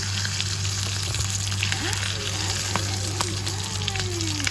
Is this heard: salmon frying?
yes